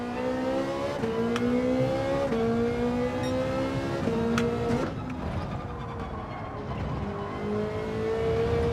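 Porsche race car in Gran Turismo 7 revving hard and close, its engine pitch climbing through the gears with quick drops at each upshift, easing off near the middle before building again, loud and without talk.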